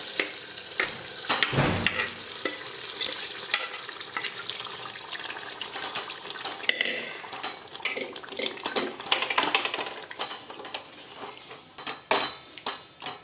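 Washed curry leaves hit a hot pan and fry, a close, continuous crackle and sputter with scattered sharp pops and a few utensil scrapes, no talking.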